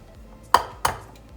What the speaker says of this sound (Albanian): Tani do të bëjmë ndarjen e vezëve, të verdhën dhe të bardhën.